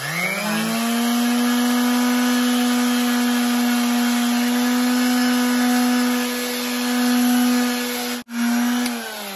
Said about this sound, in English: So I've got my palm sander and there's this little sharp bit here and I'm going to just take it.